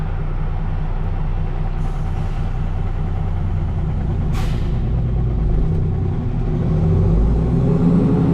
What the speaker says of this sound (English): Try build some air in the trailer.